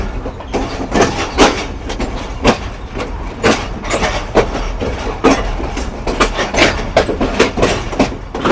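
A train leaving Hyderabad station runs along the track with loud, rhythmic clickety-clack wheel beats repeating steadily over a rumbling rolling noise.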